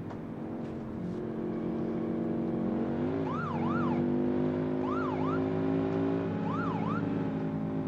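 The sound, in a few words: police car siren in video game BeamNG.drive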